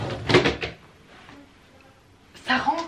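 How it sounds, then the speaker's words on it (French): Four plastic storage boxes slide into a drawer, giving two bursts of scraping and knocking separated by a quieter gap. "Est-ce que les 4 rentrent dans le tiroir?"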